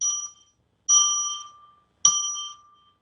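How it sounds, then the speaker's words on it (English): A small bell rings three times at a steady pace, each clear, bright chime ringing out and fading before the next strike, close by with no talking over it. "I'm going to ring a bell 3 times now to declare that from here on in"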